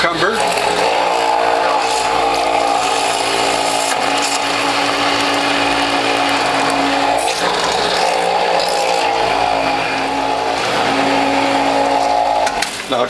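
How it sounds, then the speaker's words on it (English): A juicer motor grinds cucumber with a loud, steady, strained mechanical whir and grinding that runs without pause, along with dandelion, French sorrel, zucchini and carrot. "Now I can tell my motor's working hard"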